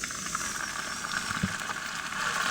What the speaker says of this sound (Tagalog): nagluluto ako ng kangkong